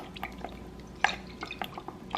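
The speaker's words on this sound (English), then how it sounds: "We're going to do a Worcestershire sauce," Worcestershire sauce is added to a soy sauce beef marinade for steak fajitas. Faint, scattered drips and small wet splashes are heard up close against a quiet kitchen background.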